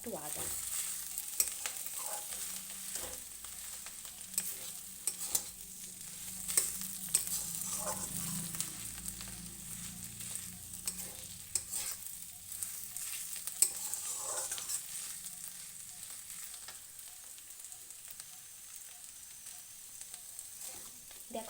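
Cabbage with tomato and potato frying in a pan with black cumin, cumin, coriander powder and ginger, a steady soft sizzle broken by repeated scraping stirs throughout, close and moderately loud with no talking.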